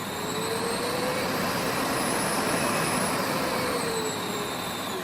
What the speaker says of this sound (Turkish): Evet süpürgemiz şu an çalışıyor.